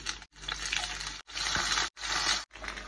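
Ham frying in olive oil in a pan gives a steady crackling sizzle, moderately close, broken by several short pauses into separate bursts.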